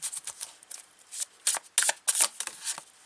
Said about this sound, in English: Let's grab an oracle card with this one,